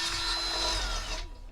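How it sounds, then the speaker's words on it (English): A power drill bores a hole through a chimney pole mount for a Starlink dish, a steady close whine that runs loudly for about a second before the motor cuts off and spins down. "And I'm going to drill a hole through this."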